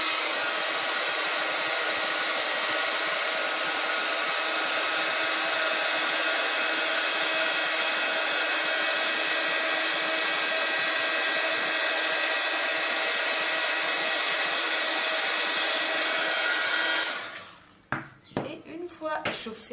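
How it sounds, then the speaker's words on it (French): A heat gun blows with a steady loud whoosh for about seventeen seconds while melting embossing powder on a card, then cuts off, leaving brief handling clatter. "on va chauffer cette encre, cette poudre avec le pistolet chauffant"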